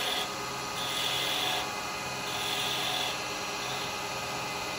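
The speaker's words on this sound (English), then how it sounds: "I'm just going to use my round chisel. Bring that diameter down." A round carbide chisel turns wood on a lathe, giving a steady, continuous scraping hiss that swells slightly with each pass; close and unbroken, with no talking.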